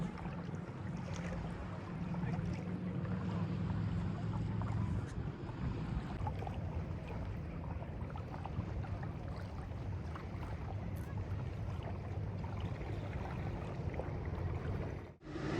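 A small outboard motor drones steadily on Lake Iseo in Italy, a continuous low hum with wind buffeting the microphone throughout.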